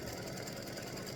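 Embroidery machine stitching a freestanding-lace oak leaf design: a faint, steady, rapid mechanical drone with a constant buzzing rhythm, heard alone over the short span.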